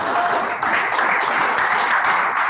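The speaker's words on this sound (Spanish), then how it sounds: "Le damos el aplauso a nuestro Dios." A church congregation at an evangelistic service bursts into sustained applause, dense loud clapping from many hands filling the room without pause.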